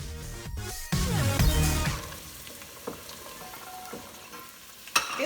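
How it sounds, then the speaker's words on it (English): Carrots and green beans sautéing in a pan for a vegan cabbage soup, a loud close sizzle with stirring clatter at first, settling into a quieter steady frying hiss with occasional utensil taps. "this is a good time to add them so they can saute together with the carrots"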